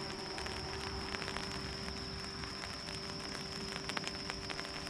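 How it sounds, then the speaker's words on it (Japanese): Rain falls steadily at a beachside auto campsite with a tarp overhead. It is a constant soft, even patter and hiss with faint scattered drips, and no one talks. "雨が降ってきましたね。"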